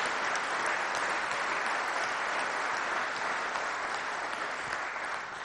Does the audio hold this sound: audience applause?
yes